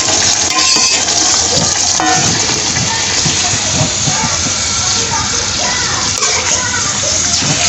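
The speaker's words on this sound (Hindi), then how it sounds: "अब हम डाल रहे हैं इसमें अपना मैरिनेटेड चिकन" Marinated chicken hits a hot pan for a restaurant-style makhani cheese handi, giving a steady loud sizzle and hiss that holds throughout, with background voices.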